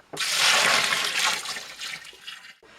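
Sugar syrup poured into a fermentation vessel for homemade apple calvados makes a loud, steady splashing pour that runs for a couple of seconds, then tapers and stops abruptly.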